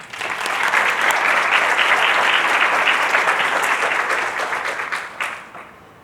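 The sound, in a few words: audience applause for the speaker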